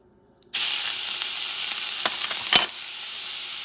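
Sofrito hits a hot pan coated with leftover pork residue, bursting into a loud, steady sizzle that continues alone, with a few soft scraping stirs partway through.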